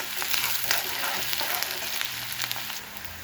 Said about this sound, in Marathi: तेलामध्ये मी कांदा असा टाकून घेतलेला आहे आणि छान असं आपल्याला परतायचं आहे।